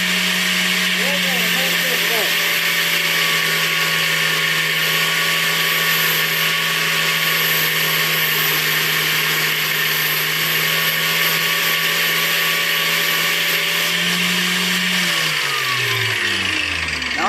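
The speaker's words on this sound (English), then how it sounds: "We got the grinder running." A grinder and a drill shaping steel spikes for a bearproof birdfeeder give a steady, loud motor whine with a low hum, holding constant before spinning down near the end.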